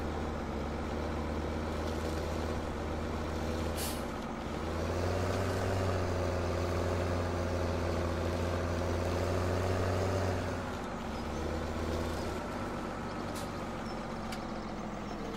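A tractor engine idles in Farming Simulator 17 with a steady low rumble that swells louder in the middle before settling back, continuous and close, with no talk.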